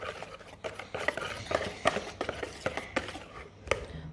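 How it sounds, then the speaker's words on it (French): Chocolate cake batter being stirred in a bowl, giving a run of irregular scraping, tapping strokes of the utensil against the bowl at close range, with no voices. "il faut tout mélanger pour faire une pâte tout au chocolat"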